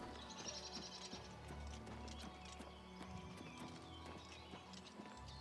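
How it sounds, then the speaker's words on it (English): A horse clip-clops in the video game Oblivion Remastered, with steady hoof beats and an occasional whinny against ambient game sounds, moderately close. "I see a horse."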